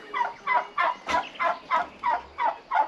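Turkeys in a farmyard poultry run gobble in a rapid, evenly spaced series of about nine loud rattling pulses, close and uninterrupted by speech.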